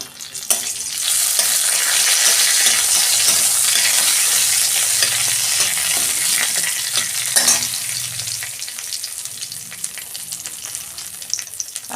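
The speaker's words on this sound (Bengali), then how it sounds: "এই যে ফোড়নের জন্য আমি তেল দিচ্ছি কড়াই" A bay leaf and a dried red chili sizzle and crackle loudly in hot oil in a wok, a steady bright frying hiss that gradually softens, with no talking.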